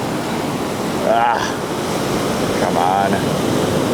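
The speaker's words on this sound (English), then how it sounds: "Come on, ocean waves, do something." Ocean surf rolls onto the shore as a continuous wide hiss and wash, swelling slightly as waves break, with wind buffeting the microphone and someone speaking briefly twice over it.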